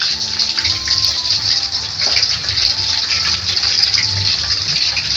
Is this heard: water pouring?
yes